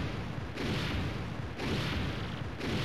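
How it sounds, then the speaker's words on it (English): Robot blowing up in a Mario video game, loud broadband rumbling blasts arriving in three roughly one-second surges, dense and continuous with no pauses between them. "The robot's going to explode."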